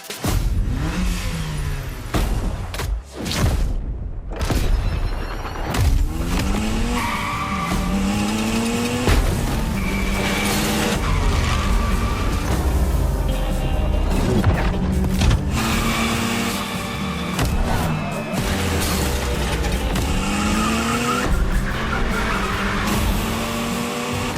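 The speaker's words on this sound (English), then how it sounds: "let me introduce GYMKHANA Motorfest, featuring the Evo 9 starring you." A Mitsubishi Evo 9 is driven hard at a gymkhana motorfest, its engine revving and shifting continuously while tires squeal and skid through repeated slides, loud and close for the whole stretch.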